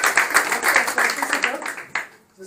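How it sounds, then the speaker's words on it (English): A short burst of clapping from a small group, brisk and dense, tapering off after about two seconds. "Give her the Roxy a nice round of applause."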